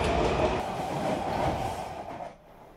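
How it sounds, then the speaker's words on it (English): A metro train runs on its way to DC, a loud close rumble and rattle of wheels on track that holds steady and then fades toward the end, with no talking. "He takes the train down to DC twice a week."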